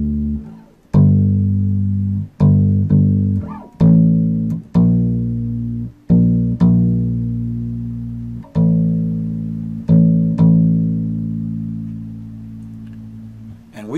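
A bass guitar plays the bass line of a song, with deep plucked notes in a steady repeating pattern, each ringing out and decaying, loud and close with no talking.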